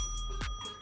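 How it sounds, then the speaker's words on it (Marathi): A handbell rung during a history quiz gives a single bright, short ding that rings out briefly against a quiet room, close by and with no speech. "मी घंटी वाजवली"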